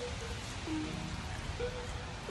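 Steady rain hisses down continuously on an outdoor box turtle enclosure, a dense wash of drops on surfaces, close and even throughout.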